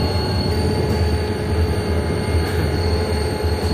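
Karakoram Express 42 Down passing through the Bin Qasim railway yard near Karachi, a steady, close, continuous rumble of rolling wagons with faint wheel squeal and no voices.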